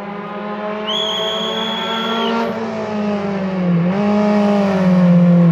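A BMW rally car on a special stage of the 2019 Rajd Świdnicki-Krause brakes hard with locked wheels, a loud near tire squeal and skid riding over the engine's drone, then the motor pulls on strongly.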